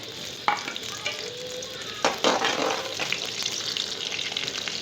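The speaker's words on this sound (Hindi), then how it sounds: "इसमें हम प्याज फ्राई करने वाले हैं।" Onion frying in a pan for an aloo baingan (potato and brinjal) curry, giving a steady close sizzle with a few sharper stirring scrapes and clatters of the spoon.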